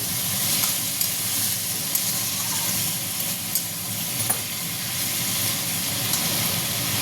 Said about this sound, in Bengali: আবার একটু নাড়া দিই